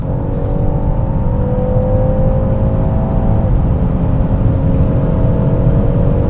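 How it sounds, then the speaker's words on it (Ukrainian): A 2020 BMW 530e G30 engine revs steadily higher as it accelerates hard in sport mode, a loud continuous roar with rising tones, no voices. "Автомобіль досить швидко набирає швидкість"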